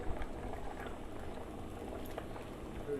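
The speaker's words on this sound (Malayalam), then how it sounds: "അപ്പോൾ ഇനി നമ്മൾ 2ാം പാൽ ഒഴിക്കാൻ പോവുകയാണ്." Second coconut milk poured into a pot of Kerala-style ada pradhaman, heard as steady liquid bubbling and pouring at close range, with no talk.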